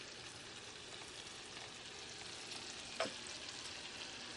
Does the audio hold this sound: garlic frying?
yes